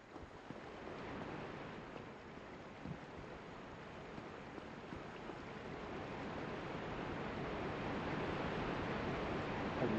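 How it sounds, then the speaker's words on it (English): A waterfall in the video game Dark Souls gives a continuous broadband rushing roar, steady and moderately loud, slowly building over ten seconds with no talk. "A waterfall?"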